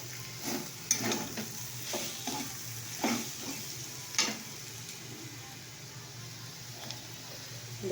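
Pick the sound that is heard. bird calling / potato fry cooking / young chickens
potato fry cooking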